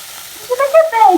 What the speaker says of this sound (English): Look at that! So it is frying.